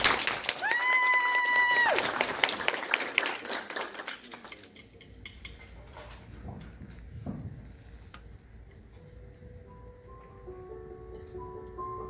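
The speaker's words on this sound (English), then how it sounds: "So if you give Miss Gracie Eubanks a round of applause." Brief applause from an audience at a singing showcase greeting a young singer, busy scattered clapping with a sustained tone over it, fading out after a few seconds into quieter room sound and faint piano-like notes.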